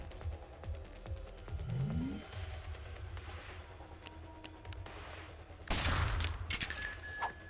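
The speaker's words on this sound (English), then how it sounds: "Why is there a gunshot every time?" Gunfire from the Reverse Collapse: Bakery Girl video game, with a sharp burst of shots near the end over a background of mechanical clicks and ratcheting, plus a rising tone early on.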